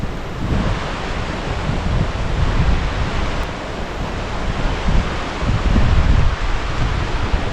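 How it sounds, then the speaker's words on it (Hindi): Birthi waterfall in Munsiary, Uttarakhand, heard as a steady, dense roar of rushing water, broad and continuous throughout, with slight swells in intensity and no talking. "ये है वाटरफॉल।"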